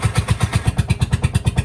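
An auto rickshaw engine on a cold morning in Sri Lanka, started with the ignition button and then running in a fast, steady, close-up thumping rhythm throughout.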